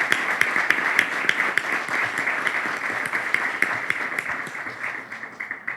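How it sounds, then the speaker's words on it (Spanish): Audience applause at a ceremony marking a centenary, a sustained wash of many hands clapping with a few sharper claps standing out, steady and fairly loud before tapering slightly at the end. "eso merece un aplauso para darle las gracias a él"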